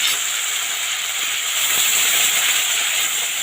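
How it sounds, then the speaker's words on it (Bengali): Ginger, tomato and chili paste hits hot oil in a pan, giving a steady, loud hiss and sizzle that holds evenly throughout without pause, close up and with no voices. "এবার দিয়ে দিচ্ছি আদা টমেটো লঙ্কা বাটাটা"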